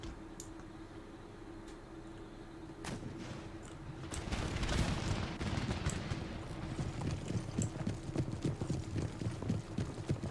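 In an Empire: Total War battle, cavalry horses start with a few scattered hoof clicks, then build into dense, rapid galloping clatter mixed with distant gunfire cracks, growing louder and more continuous.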